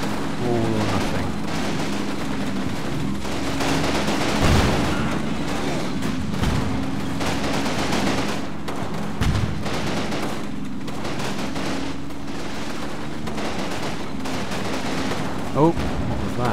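Gunfire from the Combat Mission: Battle for Normandy war game, a steady din of rattling shots and thuds layered under a continuous low engine-like drone, with occasional sharper cracks standing out.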